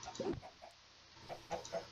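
Chickens cluck in a video game, a few short, soft clucks over steady background noise with no talking.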